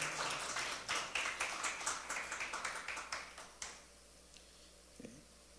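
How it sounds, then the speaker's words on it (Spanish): A church congregation claps in praise after a sermon: a brisk burst of many hands that thins into separate rhythmic claps, then fades to near silence with a faint knock at the end. "Dele el aplauso al Señor."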